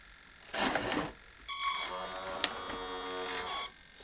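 A 1:14 scale RC CAT D6 dozer with ripper lowers its blade on hydraulics: a short whirring burst, then a steady, close mechanical whine of the pump lasting about two seconds before stopping.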